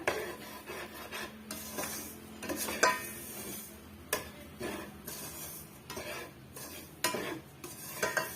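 Semolina and grated coconut stuffing for somas being stirred in a pan, with repeated scraping and clinking of a spoon against the metal vessel in uneven bursts, close and moderately loud.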